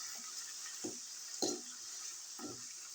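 Ginger garlic paste sautés in a hot pan with a steady, quiet sizzle, broken by three soft scraping stirs spaced about a second apart; no one speaks.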